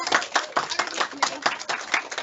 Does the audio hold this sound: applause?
yes